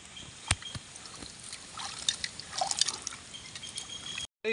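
Food being washed in water to remove dirt: soft splashes, drips and trickling close by, with sharper splashes building toward the end before a sudden cut.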